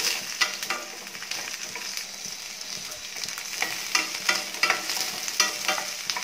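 Shallots, garlic and two green chillies sautéing in a pan, a close crackling sizzle with quick, repeated stirring and scraping strokes, no voices.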